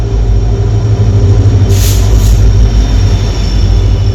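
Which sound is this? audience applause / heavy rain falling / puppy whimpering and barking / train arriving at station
train arriving at station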